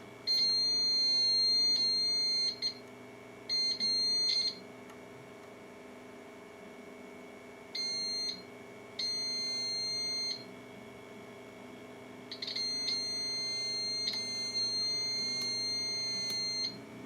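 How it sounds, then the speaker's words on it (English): A FlashForge Finder 3D printer beeps during platform leveling, giving steady electronic tones in several separate stretches of one to two seconds over a constant machine hum. "Unscrew corresponding nut under platform clockwise until hearing a steady beep."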